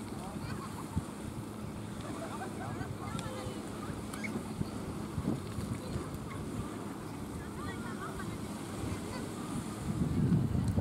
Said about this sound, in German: Warmer Wind von der See her.